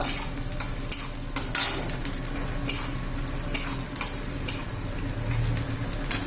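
Onion stir-fried in a pan for a dill leaf vegetable dish sizzles softly while a utensil repeatedly scrapes and clinks against the pan in irregular strokes.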